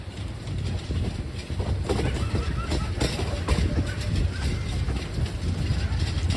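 The Turna Express, a passenger train running from Chittagong to Dhaka, rumbles and clatters along the rails, its wheel noise steady and fairly loud from start to finish.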